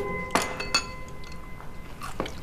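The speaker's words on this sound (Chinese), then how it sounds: "收拾碗筷" Bowls and chopsticks being cleared after a family meal, with a few sharp clinks of dishes and utensils against a quiet room, spaced irregularly with soft handling sounds between.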